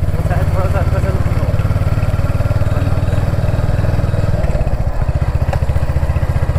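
Royal Enfield Hunter 350 motorcycle engine running steadily up close, with a rhythmic low thumping throughout and people talking over it.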